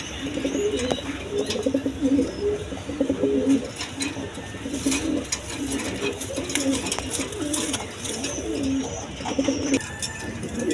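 A pair of big king pigeons coo steadily through the whole stretch, soft repeated rolling calls close by, with faint chirps and some background noise but no talk.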